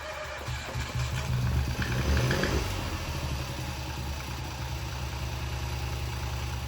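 A rebuilt Ford Fiesta Mk7 1.0-litre EcoBoost engine runs at a rough, uneven idle, a steady low throbbing drone close by with a brief swell early on and no talking.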